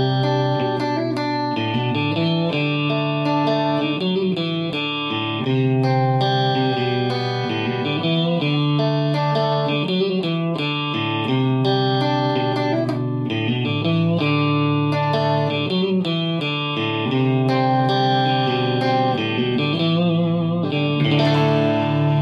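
A Yamaha Pacifica 112J electric guitar plays a run of strummed chords and picked notes through effects, loud and sustained without a break, with no speech.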